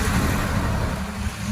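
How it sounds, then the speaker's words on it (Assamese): Steady roar of road traffic as cars and other motor vehicles pass continuously near the Vaishno Devi temple, a dense broadband rumble with no voices. "বেছি আহি আছে মানে গাড়ী মটৰ বহুত চলি আছেতো"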